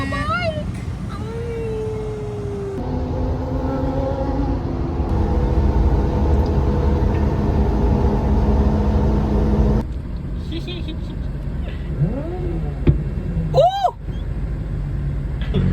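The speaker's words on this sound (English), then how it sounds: "it's my first time riding on my bike." A 2007 Suzuki GSXR 600 motorcycle engine runs in a steady rumbling drone that rises in pitch as the bike gets underway, with wind noise and people talking intermittently over it.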